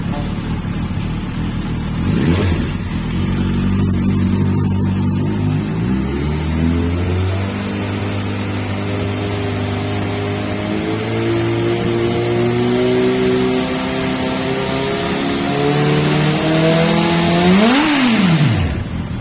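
A Suzuki GSX650F motorcycle engine cranks and fires up, then runs with rising and falling revs, including a sharp throttle blip near the end; loud and close.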